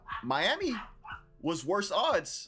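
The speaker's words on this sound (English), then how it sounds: "Sorry about the dogs barking in the background." Dogs bark in the background, several yips and barks mixed under someone talking steadily in the foreground.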